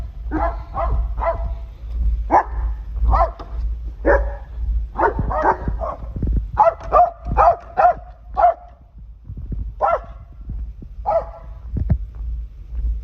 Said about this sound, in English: we're fixing to get barked at